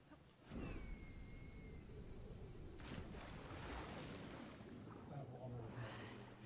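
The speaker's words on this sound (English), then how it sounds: "We're about to take a large jump into water." A game character plunges into water in Assassin's Creed Shadows, and a loud rush of splash and surf noise swells and keeps churning. A voice speaks faintly beneath the watery roar.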